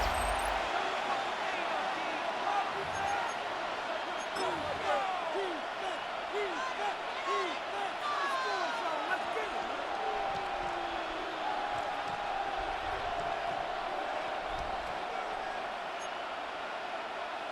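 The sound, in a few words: stadium crowd noise in the video game Madden NFL 26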